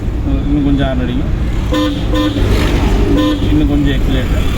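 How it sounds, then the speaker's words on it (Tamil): Car horn honking in short toots during a driving lesson in a car, repeated several times amid steady engine and road noise, with an instructor talking throughout. "இன்னும் கொஞ்சம் ஹார்ன் அடிங்க."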